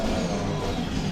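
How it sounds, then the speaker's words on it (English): A Honda race car engine in an endurance racing video game drones steadily at high revs, a continuous mid-pitched motor hum with no break. "I love the engine sound though."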